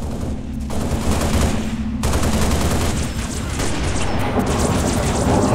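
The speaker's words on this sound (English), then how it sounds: "Gunfire." Sustained bursts of rapid gunfire and booming shots from a Halo: Reach firefight, loud and dense throughout with no speech.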